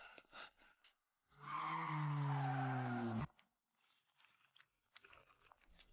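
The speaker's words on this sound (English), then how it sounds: "Good thing I slammed on the brakes quickly" A car brakes hard and its tires skid in one loud, sustained squeal lasting about two seconds, falling slightly in pitch, set between quieter indoor sounds.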